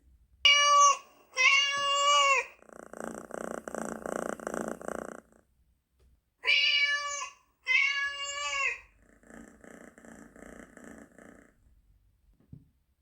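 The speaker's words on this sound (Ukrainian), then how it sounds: "Так, правильно, це кіт." Two pairs of clear, close cat meows, each pair followed by a stretch of low, rumbling purring, with quiet pauses between.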